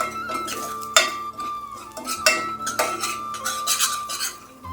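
A metal spoon scrapes and clinks against a pan as fenugreek seeds, curry leaves and asafoetida are sautéed in oil for a tamarind-jaggery amti, with irregular sharp knocks over a soft background sizzle.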